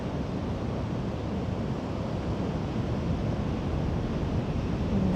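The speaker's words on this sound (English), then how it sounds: "And the sounds of the ocean." Ocean surf rolling in a steady, broad rush of noise, continuous and fairly close, with a windy, hissing quality and no voices over it.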